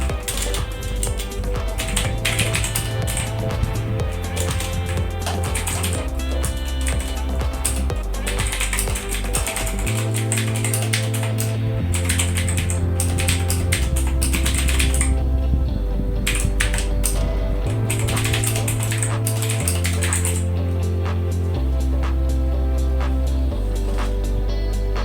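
Rapid clicking keystrokes on a Philips SPK8614 RGB gaming keyboard, a dense steady run of mechanical clicks over a loud, low tonal backing that continues throughout.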